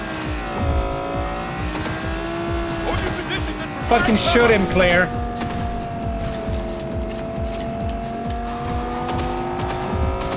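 Fast car racing through Cyberpunk 2077, with a steady engine drone and rising revs, a brief tire squeal near the middle, and someone talking over it.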